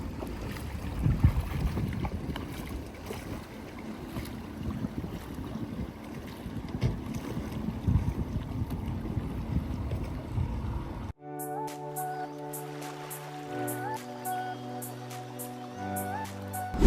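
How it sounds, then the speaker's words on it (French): Outdoor boat ride on water in French Polynesia, with rough wind buffeting the microphone and a churning low rumble of wind and water, cut off partway by a switch to music. "Les gars, là on est dans le bateau là."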